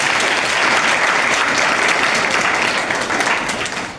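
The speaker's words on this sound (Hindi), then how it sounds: "एक बार ताली बजा दो प्रभु की" A church congregation at a Sunday service breaks into dense, sustained applause, loud and steady for about three seconds before easing off slightly toward the end, with no talking over it.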